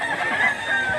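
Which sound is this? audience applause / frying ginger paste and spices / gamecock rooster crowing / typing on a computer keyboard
gamecock rooster crowing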